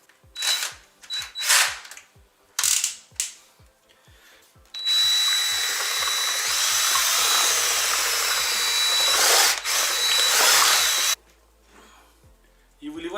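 An electric power drill stirs thick homemade glue for decorative plaster, first in short bursts, then one long steady whirring run of several seconds before stopping, loud and close.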